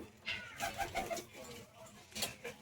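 Several pigeons coo in a short run of soft, rounded calls close by, with a few quieter coos and rustles trailing after.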